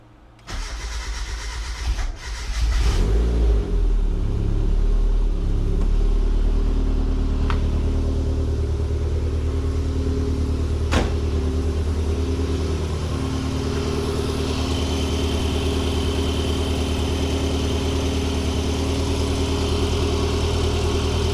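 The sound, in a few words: turbocharged Mazda Miata engine with loud exhaust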